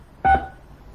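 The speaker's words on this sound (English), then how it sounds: "Using your touchtone phone, please enter your PIN number." Touchtone phone keypad entering a PIN: one short, loud, clean dual-tone beep that cuts off quickly and leaves faint line hiss behind it.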